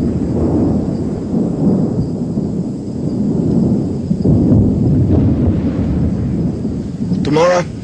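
Thunder from a wet-season lightning storm in the Australian bush around Port Keats rolls as a deep, continuous rumble, loud and sustained, swelling and easing across the whole stretch.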